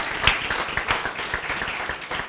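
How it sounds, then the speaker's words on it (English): Audience applause following a speech at a fiscal policy forum, with scattered claps at moderate level that continue steadily and slightly unevenly throughout. "another round of applause for his contribution this morning"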